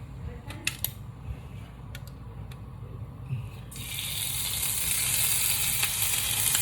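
Butter drops into a hot cast iron pan and breaks into a loud, steady sizzle partway through, after a few quiet seconds with some faint clicks and handling noises. The sizzle stays bright and constant to the end.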